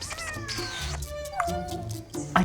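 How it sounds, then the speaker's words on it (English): A 17-year-old cat meows in a few drawn-out, rising and falling calls close by, with a brief softer sound near the end. "17-year-old Nero, a talking cat who lives with his devoted owner Simone."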